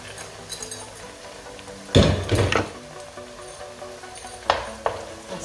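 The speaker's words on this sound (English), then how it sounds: "Then add your tin tomatoes." Canned tomatoes hit a hot pan of sauteed base for Nigerian ayamase stew, with a loud burst of sizzling, a second sharper hiss a few seconds later and quieter frying crackle in between.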